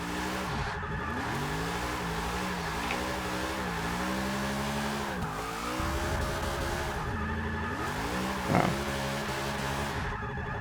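Tires squeal and skid continuously as an AWD 2000 Plymouth Prowler drifts in Forza Motorsport 6, the engine note rising and falling under a steady screech, with a short sharp burst near the end.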